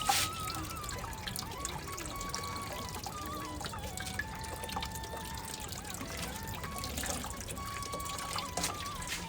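Water trickles and drips steadily, poured from a bucket to water plants. The flow stays fairly close and moderate, with faint background sounds throughout.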